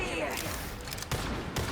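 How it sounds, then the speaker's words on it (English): Rapid gunfire from a Marvel Rivals match, shots aimed into a wall, crackling in quick bursts at moderate loudness beneath game noise. "Why are you shooting at the wall?"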